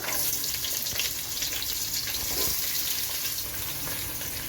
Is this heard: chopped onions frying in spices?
yes